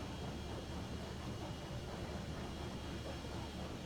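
Long train of 24 cars rolling steadily on rails in the Railroads Online video game, a continuous low rumble and rattle with no breaks or speech.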